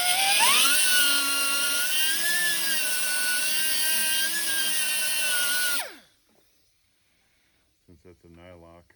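A cutting wheel trims a bolt on a 1923 C Cab, throwing sparks. A loud, high-pitched grinding whine rises at first, holds steady for several seconds, then winds down and stops. Brief talk follows near the end.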